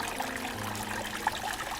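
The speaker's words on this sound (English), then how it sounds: "When it pumps the water up there, then it flows down here." Fresh water flows from a buried pump's tube down into a cleaned-out backyard water hole, making a steady, close trickle and splash that runs continuously under a low hum.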